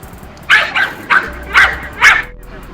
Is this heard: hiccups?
no